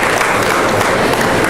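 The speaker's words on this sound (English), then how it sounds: "Can we have a huge round of applause for our associate partners?" An audience claps loudly at a live industry event, a dense, continuous wash of applause close by with no one speaking over it.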